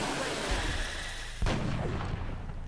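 Gunfire in the turn-based strategy game XCOM: Enemy Within, with two separate heavy shots, one soft and one louder and booming, each fading out over a steady background hum.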